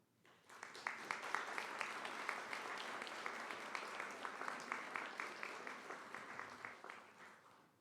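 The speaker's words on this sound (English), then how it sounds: "rise and applaud the very family members and friends who have helped you on" Graduates at a Northwest State Community College nursing and allied health commencement stand and applaud their family and friends; a broad, even round of many hands claps steadily for several seconds at a moderate distance, then tapers.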